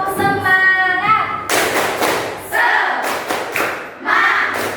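A classroom group performs the tepuk semangat clapping chant, a loud burst of rhythmic clapping and thumping mixed with children's voices and shouts, close and energetic.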